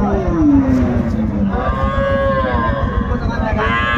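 A dairy cow at the Ambari cattle market in Dinajpur lets out a loud, drawn-out moo close by, followed by further lowing, with crowd noise in the background.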